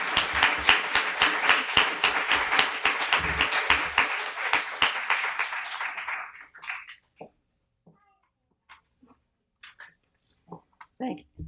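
Audience at a guide dog school graduation giving a warm round of applause, dense clapping for about six seconds that thins out into a few scattered claps.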